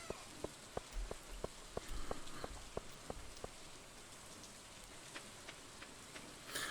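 Rain falling in Stardew Valley during summer: a soft steady patter with a run of crisp, regularly spaced drop ticks, fairly faint and heard alone.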